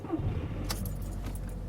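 Car keys jangle briefly in a hand beside a car, a few light metallic clinks sounding close over a low background hum, with no talk.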